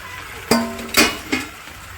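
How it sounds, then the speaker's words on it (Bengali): A spoon scrapes and clanks three times through potatoes and chicken frying in a pan for a Bengali chicken curry, sharp close knocks over a faint low sizzle. "আলুটা দিয়ে নিয়েছি দিয়ে ভালো করে একটু নাড়াচাড়া দিয়ে নেব আলুর সাথে মাংসের সাথে দু মিনিট কষিয়ে নেব"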